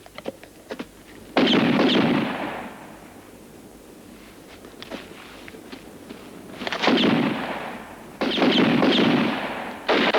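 Gunfire in a western film comes as several loud, sharp bursts, some spaced apart and some clustered into rapid volleys, with brief crackling reports and quieter gaps of low background noise between them.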